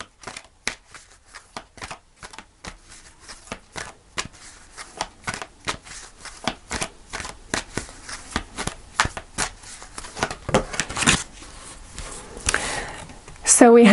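Tarot cards being shuffled by hand, a long run of quick riffling snaps and slaps in an uneven rhythm, close and crisp, ending in a louder burst as a card is drawn; no one speaks.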